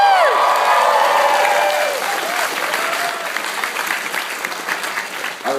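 Convention panel audience at a fan Q&A bursts into loud, sustained applause with whoops and cheers on top, a few shouted voices arcing above the clapping before it slowly thins out.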